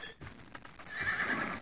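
A horse in the video game Might & Magic 6 whinnies over soft hoof clip-clops, a short, fairly quiet burst with no one talking.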